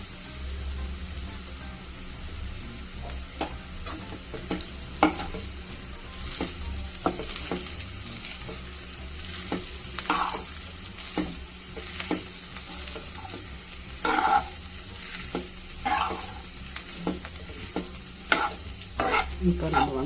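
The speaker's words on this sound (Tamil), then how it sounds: "இப்போ நம்ம வந்து இதெல்லாம் க்ளீனாக மிக்ஸ் பண்ணிட்டு பார்க்கலாம்." Pepper rice with egg is mixed in a pan, a steady low sizzle broken by frequent rhythmic scraping and tapping of a spatula against the metal, close and moderately loud.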